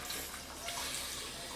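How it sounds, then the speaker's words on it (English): Vegetable broth pours steadily into a cooking pot in a home kitchen, a continuous soft splashing with no talk over it. "And now I'm adding 2 cups of vegetable broth"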